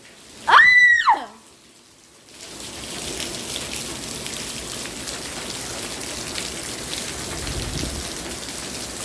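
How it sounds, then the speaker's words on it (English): A short, loud human shout gives way to a strong storm: heavy rain driven sideways by high winds, a steady, dense hiss that fills the rest of the clip. "Rain's going sideways."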